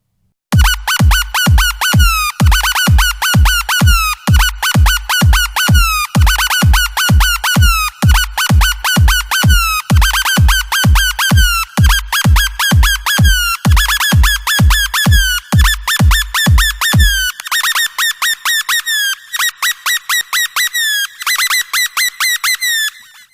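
Riser built in Massive: rapid, evenly pulsing synth notes with a strong low thump that climb steadily in pitch, the bass dropping out near the end as the bright pulses continue, loud and alone.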